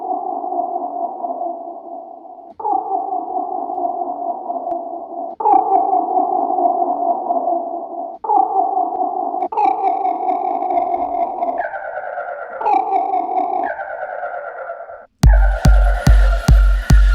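A sustained synth tone plays in held notes that step between pitches, heavily processed with gritty distortion and space-module echo, ending in harsh pulsing buzz.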